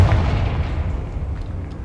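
A Confringo fire spell blast in Hogwarts Legacy lands as a deep, booming rumble that starts strong and slowly fades over about two seconds.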